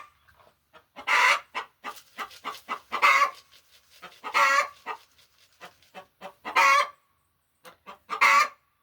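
Chickens cluck and squawk close by, with repeated loud squawks standing out from a run of shorter clucks in an irregular rhythm.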